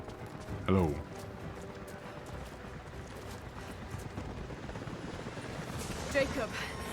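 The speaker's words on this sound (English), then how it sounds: "helicopters are headed your way" Helicopters approaching in the Rise of the Tomb Raider video game, a steady rotor drone under ambient game noise, with a couple of brief louder clattering bursts and voices in the scene.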